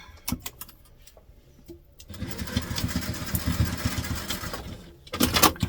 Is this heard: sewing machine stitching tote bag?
yes